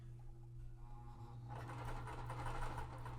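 A sewing machine runs through quilt pieces at a quarter-inch seam, faint and close, its steady whir starting about halfway through after a quiet hum.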